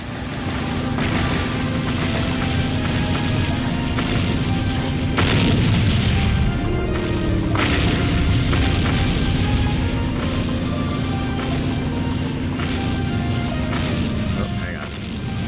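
Nukes dropping on enemy tanks and ships in the Seek & Destroy video game, a dense, constant roar of loud booms and crashes with a steady droning tone, one player talking throughout.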